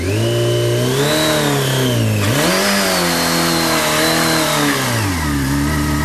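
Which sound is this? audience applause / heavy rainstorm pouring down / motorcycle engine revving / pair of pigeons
motorcycle engine revving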